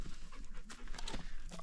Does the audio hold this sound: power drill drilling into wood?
no